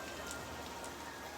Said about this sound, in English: we were going to get this much rain today